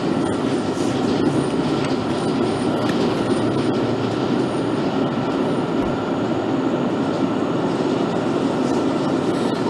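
A London Underground Central Line train in the BVE train simulator game rolls along steadily, a continuous loud rumble of wheels and motors with faint rail clatter and no talk.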